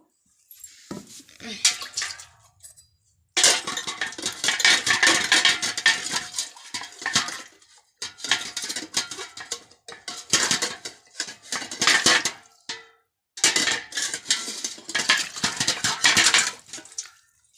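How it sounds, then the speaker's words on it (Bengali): Metal dishes and a brass panchapradip lamp being washed, with bursts of clattering, scrubbing and running water in repeated loud stretches separated by brief pauses. "এই যে মা পঞ্চপদ্বীপটাও ধুয়ে নেব দেখো"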